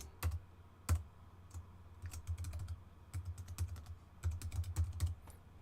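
Someone types on a computer keyboard at close range. The keystrokes come in quick irregular bursts with brief pauses, over a quiet room with no talk.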